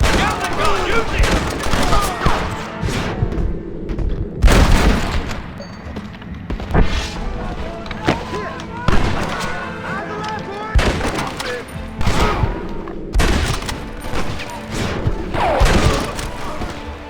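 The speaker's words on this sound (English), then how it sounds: "We need more fire! Gatling gun, use it!" A Gatling gun hammers away in Red Dead Redemption, sending loud rolling volleys of rapid shots and heavy booms, with voices shouting over the sustained barrage.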